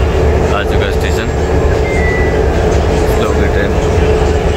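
Loud, steady rumble and hum inside a Namo Bharat RRTS rapid rail train on the Delhi–Meerut line as it pulls into a station, with faint tonal whines and murmuring voices throughout.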